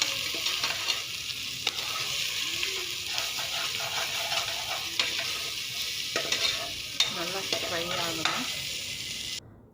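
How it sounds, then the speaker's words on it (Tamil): Onion with ginger garlic paste and a little salt sautéing in a pan for veg pulao, a steady close sizzle broken by repeated stirring scrapes, no voice. "onion and ginger garlic paste எல்லாமே போட்டு கொஞ்சமாக சால்ட் போட்டு இன்னும் நல்லா வதக்கிக்கிறேன்"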